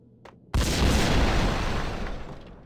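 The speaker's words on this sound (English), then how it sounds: "that was just an explosion" A loud, close explosion from the video game Max Payne bursts in with a sharp boom, then a broad rumbling roar that lingers and slowly fades over a couple of seconds, preceded by a faint brief sound.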